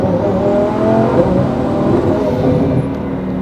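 A 1000hp Lamborghini Huracan drag car engine roars loudly and steadily from inside the cabin during a ride, a continuous dense drone with rising and falling revs and no talk.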